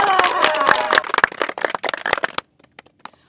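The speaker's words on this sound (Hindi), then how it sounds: "तो इनके लिए एक बार जोरदार तालियां हो जाए" Spectators at a village cricket match clap loudly for an arriving team, with voices shouting over the first second; the sharp hand claps then thin out into scattered, fading slaps.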